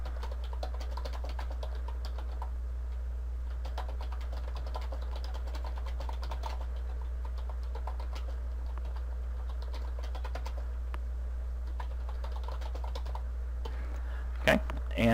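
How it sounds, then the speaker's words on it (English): A name is typed on a computer keyboard, rapid irregular key clicks in bursts throughout over a steady low hum, with a louder thump near the end. "you can go in and type your name"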